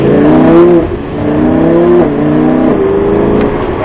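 A Lamborghini engine revs hard on the Montlhéry racing circuit during a driving lesson, its loud close roar climbing in pitch in several surges with quick gear-change dips between them, with no talk over it.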